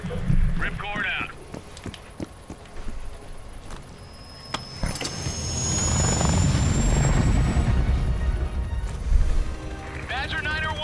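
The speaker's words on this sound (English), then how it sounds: "Badger Niner One, in the air. Oh wow, I'm controlling the chopper." A military helicopter in the Call of Duty Cold War video game roars with a rising rotor and engine wash under game effects and radio chatter. Voices talk over it throughout.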